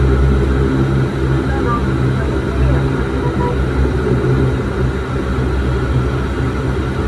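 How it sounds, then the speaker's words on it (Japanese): A steady, loud engine drone fills an airliner cabin as the plane taxis at Minami-Daito before the very short hop to Kitadaito Airport, constant throughout with no clear break. "タキシングを開始しました。"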